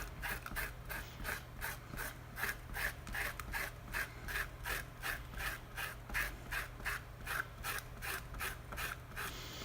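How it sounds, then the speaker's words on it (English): Dry masking fluid being rubbed off a watercolour flower painting, a steady run of short, even scrubbing strokes at about two per second, close and fairly quiet over a low constant hum. "now we're going to take off the masking fluid since it's dry"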